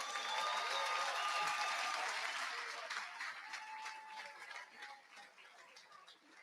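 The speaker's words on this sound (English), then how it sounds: "Let's have a big round of applause again." A crowd at an endurance obstacle race awards ceremony gives a sustained round of applause with some cheering, steady at first and then gradually tapering off.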